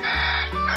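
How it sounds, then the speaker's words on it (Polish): A farmyard rooster crows in a short, loud, close burst, heard alone without other sounds. "Jej partnerem jest kogut, który budzi nas o poranku swoim okrzykiem."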